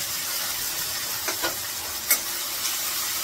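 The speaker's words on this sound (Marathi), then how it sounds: "चांगलं परतून घेते तेल सुटेपर्यंत" An onion-tomato paste with cumin sizzles steadily as it is sautéed in hot oil, a bright continuous hiss marked by a few soft scrapes of stirring, heard up close with no talking.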